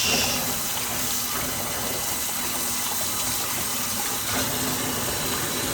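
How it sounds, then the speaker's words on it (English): Aquarium water flows steadily through a hose into a bucket, a continuous broadband rush of running water, moderately loud and close, with no voices. "we'll come back once this bucket's full and the tank's drained"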